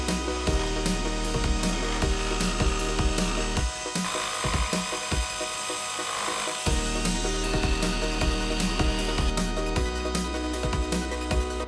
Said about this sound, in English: I want to go ahead and use my jigsaw to cut the rest of it out.